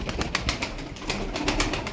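Ankara-style tumbler pigeons, twelve birds for sale, coo and flutter nearby in a steady jumble of soft calls and wing rustles, with no voices over them.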